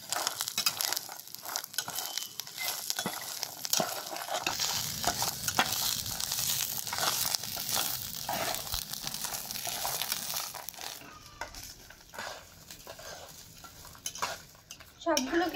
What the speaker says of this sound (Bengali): সবগুলোকে আমি একসাথে ভেজে নেব।